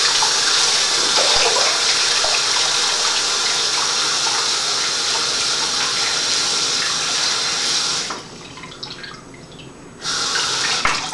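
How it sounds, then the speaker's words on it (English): Water runs steadily from a tap, a constant close hiss and splash that cuts out abruptly for about two seconds near the end and then resumes at full flow. "just turn the water on, put on hot or medium"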